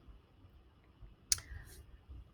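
A single sharp computer mouse click while arranging objects in a graphics program, brief and close, over faint background hum with no talk.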